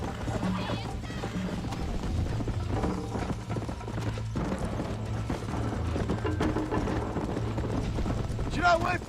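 Horse hooves galloping during a race in Red Dead Redemption, a rapid steady clip-clop rhythm under background music and commotion, running continuously for the whole stretch.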